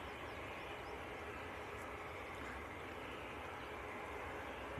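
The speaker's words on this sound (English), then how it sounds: "Jet2 also pushing back at the moment." A Jet2 airliner pushes back at Leeds Bradford Airport, heard as a faint, distant, steady engine rumble and whine with no other distinct sounds.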